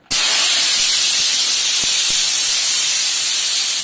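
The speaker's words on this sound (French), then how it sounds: "Rien ne vous empêche non plus de vaporiser votre vapeur en l'air dans votre pièce, ainsi." A Vapodil steam cleaner sprays steam into the air of a room, making a loud, continuous hiss that starts abruptly and runs steadily for several seconds before cutting off.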